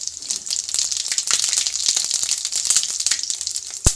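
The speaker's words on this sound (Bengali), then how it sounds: "এটা হচ্ছে ফোড়ন দিলাম" Cumin seeds and dried red chillies hit hot oil as a tempering. The sizzle is loud and continuous, with sharp crackles and pops close by. There is no talk.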